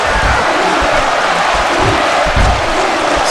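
A wrestling crowd roars steadily throughout a match, a loud, dense wall of cheering with scattered thuds and shouts mixed in.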